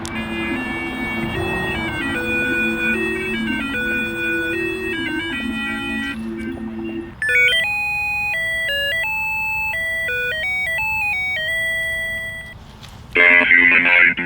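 Sabertrio Vektra lightsaber cycling through its sound bank effects: a series of loud electronic tonal chimes and beeping melodic tones in steady stepped patterns, shifting to a new set around the middle and ending with a short bright burst.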